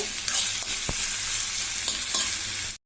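A spoon stirring turmeric and rock salt through sambar in a pot on a gas stove, a steady soft sizzle and bubbling with a few light scraping strokes, close and alone until it cuts off at the end.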